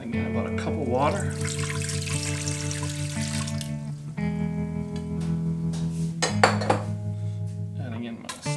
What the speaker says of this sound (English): Adding in about a cup of water.